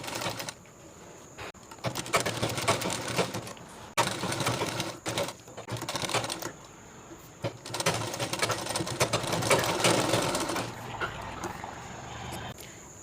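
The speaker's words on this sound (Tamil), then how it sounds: "இதை அப்படியே கவர் பண்ணி இந்த ஓரமாக ஃபுல்லாக தைச்சிடலாம்" Sewing machine stitching a men's kurta, running in several long bursts of rapid needle clatter broken by brief stops, close and steady, with no speech over it.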